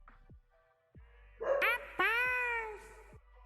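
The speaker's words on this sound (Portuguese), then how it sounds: "O Douglas tá latindo aqui, meu cachorro." A pet dog indoors gives two drawn-out, whining barks close by, each a sustained tonal yelp following a few soft taps, loud against a quiet room.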